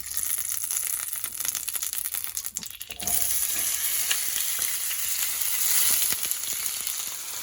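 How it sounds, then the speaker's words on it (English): Onions fry in coconut oil in a pan for a vegan butternut squash and spinach curry, a dense close sizzle with crackles and occasional scraping stirs, briefly dipping before rising steadily louder. "put the coconut oil into the pan, and then we're going to add the onions to it"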